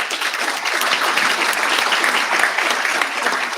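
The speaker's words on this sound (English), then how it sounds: "Round of applause, please." Audience applause at a World Food Day event, a steady wash of many hands clapping at even loudness throughout, with no voices on top.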